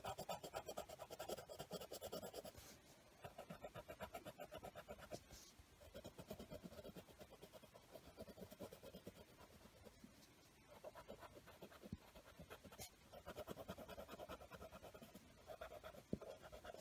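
Green colored pencil scratching across paper while drawing a plant, with quick rhythmic strokes in bursts separated by short pauses, close and soft, without speech.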